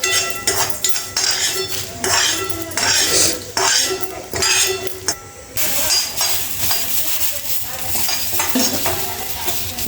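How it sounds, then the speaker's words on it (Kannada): Dry ration rice stirred in a metal pan, with a utensil scraping and clinking against the pan in steady, busy strokes over a faint hiss, close and alone without talk. "ಸಪ್ರೇಟ್ ರೇಷನ್ ಅಕ್ಕಿ ಫ್ರೈ ಮಾಡ್ಕೋಬೇಕು ನೋಡಿ"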